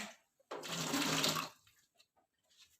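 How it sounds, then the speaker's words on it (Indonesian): Hands washed under a running kitchen tap before a meal, a steady splashing stream for about a second that then cuts off, leaving a few small drips and faint movements. "Tak cuci tangan dulu ya."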